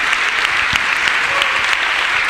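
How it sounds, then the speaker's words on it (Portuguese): A church congregation claps together during a spiritual warfare service, a dense burst of applause that fills the whole moment, close and loud. "Dê uma salva de palmas para Jesus"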